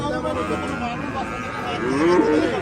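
Sahiwal and other beef cattle at a busy village cattle market in Cumilla, with a drawn-out low moo rising near the end over a steady crowd murmur.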